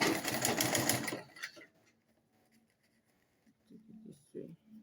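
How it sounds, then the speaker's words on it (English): A sewing machine stitches along the edge of ankara fabric in a fast, loud burst for about a second, then stops, leaving quiet room tone and a few faint handling sounds. "So you start your sewing like this."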